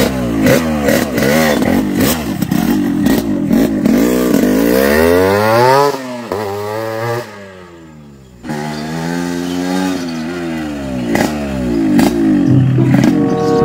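A Yamaha RX-King two-stroke motorcycle revs loud and close, its engine rising and falling in repeated sweeps, dropping briefly to near idle before climbing again.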